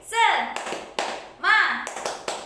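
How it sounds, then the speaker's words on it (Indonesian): Children perform the rhythmic Indonesian "tepuk semangat" clap-and-chant in a classroom, with sharp hand claps punctuating their loud chanted voices in a repeating pattern. "Mari kita lakukan bersama-sama. Tepuk semangat."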